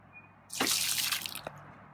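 Watering dish emptied out: a short, close splash of poured water lasting about a second, ending with a couple of small drips, set against otherwise quiet surroundings.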